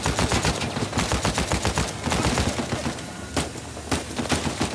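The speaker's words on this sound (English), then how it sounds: "all the ammo from my machine gun's out" Rapid automatic gunfire from a machine gun in the action video game Uncharted 4, loud and continuous with dense bursts of shots throughout and no talking.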